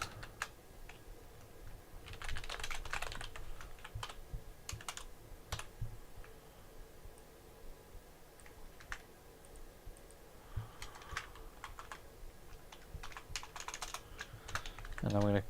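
Code is being typed on a computer keyboard, with close, quiet clusters of rapid key clicks in bursts separated by pauses, the keystrokes set against a faint room hum.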